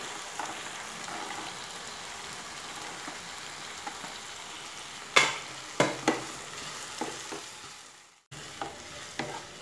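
Carrots and beans sautéing in a pan for wheat rava biriyani, a steady soft sizzle broken by several sharp scraping stirs of the spoon, close and without talk.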